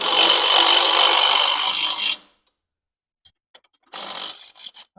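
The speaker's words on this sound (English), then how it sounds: "just tightening the mount up." On a Vauxhall Nova being converted to a Z20LET engine and gearbox, a power tool rattles steadily for about two seconds while tightening the engine mount bolts, stops, then gives a few short ticks and a second brief burst.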